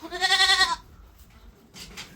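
A black billy goat on a farm lets out one loud, wavering bleat close by, followed after a pause by a fainter second call.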